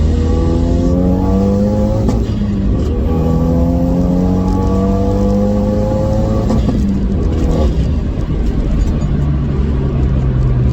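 A roughly 300 bhp Renault Megane RS250 track car revs hard and accelerates through several gears, rising pitch climbing then dropping at each shift, loud and close with constant road roar.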